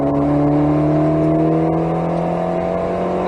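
An Alpine A110S on the Nogaro racing circuit, engine held at full throttle, gives a steady loud rising drone with strong tones that climb gradually over three seconds, close to the microphone, no talk.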